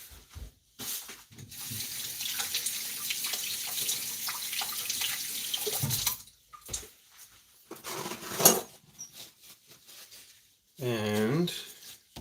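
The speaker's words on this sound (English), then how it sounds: "I'm going to give it a quick wash." An ingredient is rinsed under a running kitchen sink tap, with a steady spray of water for several seconds, then brief splashes, handling clinks and another short burst of running water, close by.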